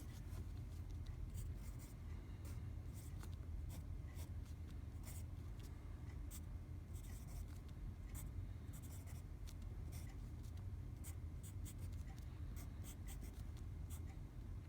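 A pen scratches steadily on a board or paper while a chemistry resonance structure is drawn out, with faint, continuous strokes and ticks over a low background hum, and no talking.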